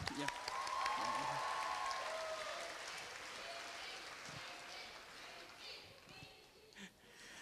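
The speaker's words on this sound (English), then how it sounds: "Let's give our buddies another round of applause." An audience at a Korea University graduation ceremony applauds in a steady wash of clapping that gradually fades out, with a speaker's voice coming in near the end.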